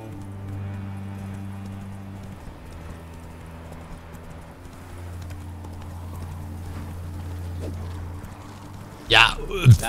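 Roach, the horse in The Witcher 3, gallops in a fast, even hoofbeat rhythm under a low game soundtrack drone, ending with a couple of louder sharp bursts, and a voice talks over it.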